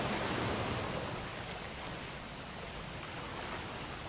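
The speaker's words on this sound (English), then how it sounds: "Water is now pouring into the cabin through the window's openings." Water rushing and pouring into a submerged, upside-down cabin box through its window openings, a steady broadband roar loudest at the start and then settling into a continuous wash with no voices.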